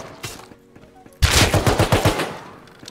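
Gunfire in Rust erupts suddenly after a quieter stretch, a loud rapid burst of about eight close shots in quick rhythm, then fading.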